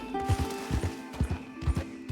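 Horse hooves clip-clop in a steady paired rhythm in Red Dead Redemption 2, close and fairly loud over a low game hum, with no talk over them.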